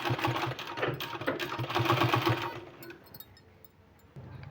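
A sewing machine runs a fast, rhythmic stitch while a decorative sleeve is sewn, whirring steadily for over two seconds and then tapering off into quieter handling noise.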